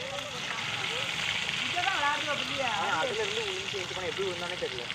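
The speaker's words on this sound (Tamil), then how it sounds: "எல்லா மீனையும் பொரிச்சு எடுத்துக்கணும் ஃப்ரெண்ட்ஸ்" Fish frying in hot oil in a pan, a steady broad sizzle running throughout at close range, with a person talking over it.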